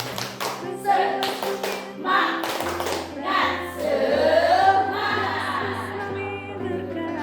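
A group claps together in quick rhythmic bursts, sharp and close, with a chanting voice and humming tones underneath.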